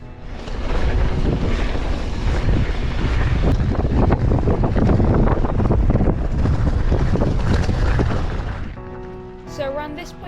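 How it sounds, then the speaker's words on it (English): Strong gusts batter the microphone on the windy summit of Montaña Roja volcano near Playa Blanca, a loud, constant rumbling buffet that drops away near the end, where a brief voice is heard. "The only thing that you have to be aware of is it's extremely windy up here"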